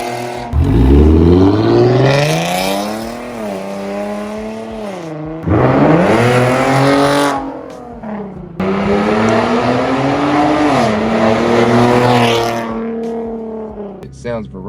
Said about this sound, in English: If you like loud exhaust, if you like being loud, if you like being heard